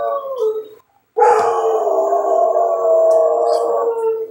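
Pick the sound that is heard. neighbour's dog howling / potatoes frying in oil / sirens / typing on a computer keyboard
neighbour's dog howling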